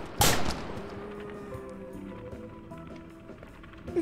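One sharp, loud assault rifle shot rings out in the Outbreak video game, followed by a fading ring over a quieter background of sustained tones.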